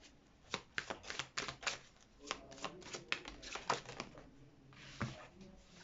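Oracle cards from the Oracle des Miroirs deck being shuffled close up: a run of crisp, papery riffles and slaps in quick irregular bursts, fairly quiet, with no speech.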